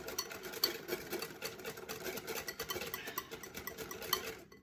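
A whisk clatters rapidly and steadily against a bowl while Yorkshire pudding batter of flour and milk is beaten, a close, busy scraping rattle that stops abruptly at the end.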